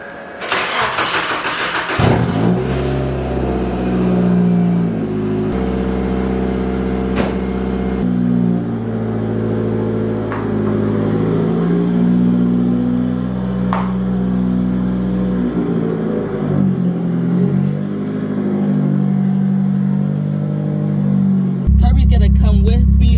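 A Nissan S13's engine on a cold start: a short loud crank, then it catches and settles into a high, rough idle that shifts pitch as the revs change, with some talk nearby.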